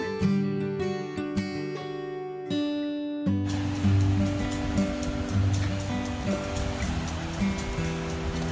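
Evening sea waves wash onto a beach in a continuous broad surf rush, preceded by a few seconds of sustained tonal notes before the water noise takes over.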